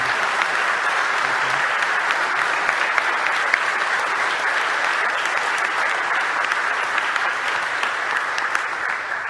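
A church congregation at an Easter Sunday service applauds its volunteers with a full, even round of clapping that holds steady throughout, dense and close, with no talk over it.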